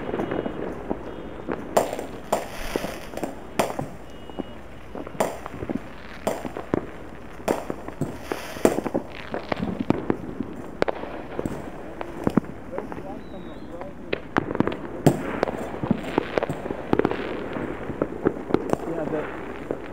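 July 4th fireworks across Lompoc, California, heard from a distance as a steady stream of sharp pops, crackles and thumps over twenty seconds, with wind buffeting the microphone and voices talking in the background.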